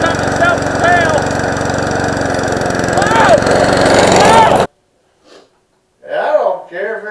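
A self-propelled lawn mower engine drones loudly and steadily at close range for about four and a half seconds, then cuts out abruptly. Brief breathy voice sounds follow in the quiet.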